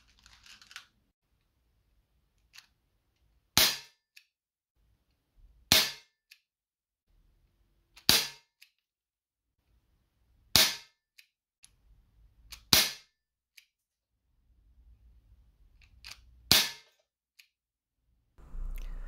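Colt Python 6 inch airsoft revolver firing 0.30 gram BBs: six sharp, loud snapping shots spaced about two to three seconds apart, with faint clicks between and quiet background.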